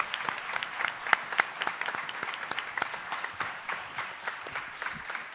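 Audience applause for panelists at a talk on U.S. interventions in the Americas, a fairly close burst of distinct individual claps thickening into a steady round that keeps going throughout.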